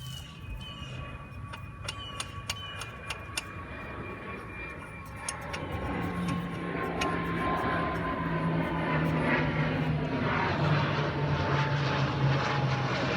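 A propeller airplane drones overhead near an airport, its engine hum swelling louder in the second half, with scattered clicks and rattles close by.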